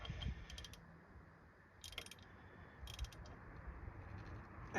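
A wrench works a bolt on the water pump pulley of a 1993 Cadillac Fleetwood Brougham, giving short bursts of quick ratcheting clicks, close and faint, separated by quiet pauses.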